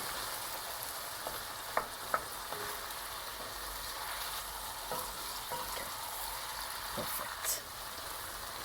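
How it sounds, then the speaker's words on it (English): A pot of osso buco sizzles and fries steadily while browned bits are scraped from the bottom, with a few sharper scrapes and clinks over the constant hiss. "you need to just scrape all the little bits at the bottom"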